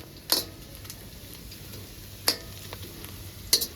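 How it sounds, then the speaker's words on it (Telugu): Onions, green chillies and curry leaves fry in a pan for a chicken liver dish, giving a soft steady sizzle with three sharp utensil clinks scattered across it, close by with no talking. "ఉల్లిగడ్డలు, పచ్చిమిరకాయలు, కరివేపాకు బాగా ఫ్రై అయిందండి."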